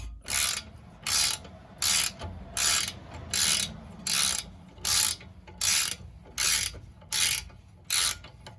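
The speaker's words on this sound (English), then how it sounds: "you could either use a ratchet or otherwise a breaker bar to get this loosened up" A ratchet wrench loosens a 17 mm castle nut on a tie rod end of a 2000 Toyota Sienna, heard as about eleven even bursts of rapid clicking, close and clear, with no talking.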